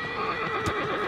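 A horse in the video game Shadow of the Colossus gives a short, loud, close whinny that rises and shakes briefly over a steady background hum.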